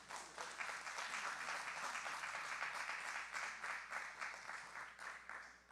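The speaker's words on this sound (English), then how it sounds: "Let's give them all a round of applause." Audience at a city candidate forum applauds the candidates, a faint, steady patter of clapping from a modest crowd heard at a distance throughout.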